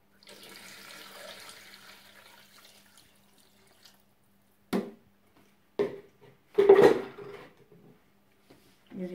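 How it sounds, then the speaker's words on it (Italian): Water is poured into a Thermomix for a seafood risotto in several short splashing bursts separated by pauses, heard close in a quiet kitchen. "Adesso uniamo l'acqua."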